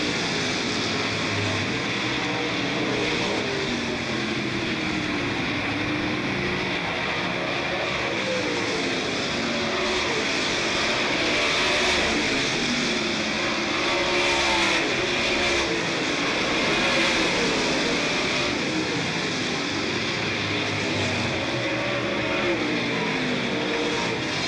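Super late model stock cars racing at Smoky Mountain Raceway, a dense, continuous roar of many engines at full throttle that swells and fades steadily as the pack circles, loud and unbroken throughout.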